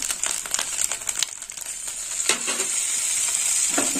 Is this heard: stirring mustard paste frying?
yes